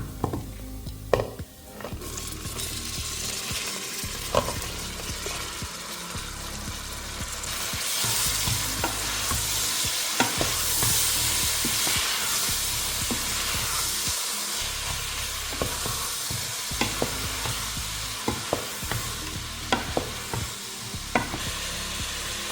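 Green peas tipped into a pan of golden fried onion, sizzling steadily while a spoon stirs, scrapes and clicks against the pan throughout.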